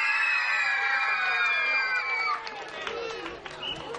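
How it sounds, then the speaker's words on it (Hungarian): A lively audience cheers and screams for a child performer at a stage show, with loud excited shouts and children's voices rising together, then fading into busy crowd chatter. "kérnénk szépen egy óriási tapsot, egy óriási sikítással egybekötve"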